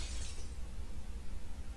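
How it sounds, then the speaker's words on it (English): Glass shatters in the video game Seven Mysteries, a bright breaking crash at the start that fades into a dense, noisy rumble of game ambience with no speech. "sounds like shattering glass?"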